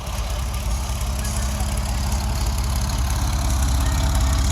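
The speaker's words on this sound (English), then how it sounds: "enjoy the song of the air-cooled flat six" An air-cooled flat-six engine idles after a cold crank, a steady, dense rumble held close and loud without pause, with no speech over it.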